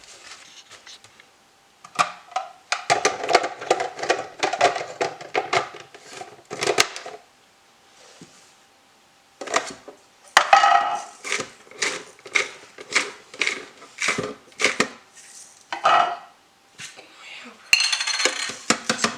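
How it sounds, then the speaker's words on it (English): A salt grinder crunches in short, repeated bursts of dry, gritty grinding up close, with brief pauses between twists. "Just grinding the salt"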